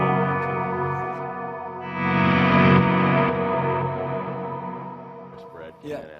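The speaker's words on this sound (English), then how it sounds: "This sound is like a big ambient thing for swells." An electric guitar runs through a G-System processor patch set for big ambient swells, its layered, reverberant tone rising and then slowly fading, with a voice briefly audible near the end.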